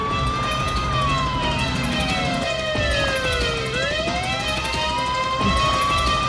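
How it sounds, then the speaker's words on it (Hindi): A loud police car siren wails during a chase, its pitch sweeping down and back up in a long cycle, close by and steady over a rumbling vehicle and background noise. "पुलिस का गाड़ी पीछा कर रही है।"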